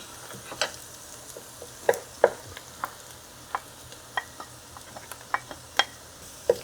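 Garlic going into a frying pan while making kuku bademjan, a Persian eggplant frittata, with a faint steady sizzle broken by a series of sharp scraping and tapping clicks from stirring.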